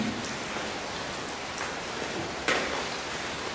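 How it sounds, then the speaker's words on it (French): Heavy rain pours steadily and streams down all around at a sanatorium, a dense, even hiss of downpour with a few brief sharper splashes, heard alone without talk. "il pleut énormément. Ça ruisselle de partout."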